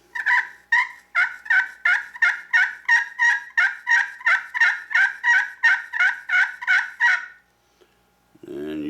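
Rapid series of about eighteen evenly spaced friction turkey call yelps made by drawing a striker across the call surface, crisp and close, running steadily for seven seconds and then stopping, followed by a short rustle.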